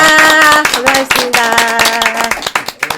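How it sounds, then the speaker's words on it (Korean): A group claps together to close a resident council meeting, a burst of quick, loud, close hand claps that thins out toward the end, with a voice briefly heard. "박수 치면서 끝낼게요."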